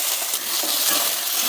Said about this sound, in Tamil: இது ரெண்டும் சேர்த்து லைட்டா வதக்கி விடுங்க.